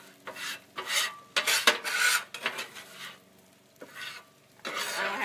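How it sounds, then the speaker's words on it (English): Debris is scraped off the hot steel surface of a 36-inch griddle, a series of harsh, rasping metal scrapes in uneven bursts, close and fairly loud with brief pauses between strokes. "You can scrape it in your thing, but I'm just getting it off the grill for right now."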